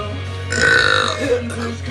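A woman lets out a long, loud, gravelly burp close to the mic, rising in the middle and trailing off over a low background hum.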